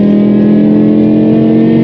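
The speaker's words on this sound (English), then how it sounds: "that exhaust, it just brings the car to life. It looks amazing, it sounds amazing" BMW M5 E61 Touring with a V10 engine pulls hard, its exhaust giving a loud, steady, close-up drone with a strong low tone throughout, no voices over it.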